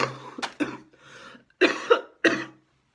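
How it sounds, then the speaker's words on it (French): A person coughs several times in short, harsh bursts close to the microphone, grouped in clusters with brief pauses between. "je tousse encore"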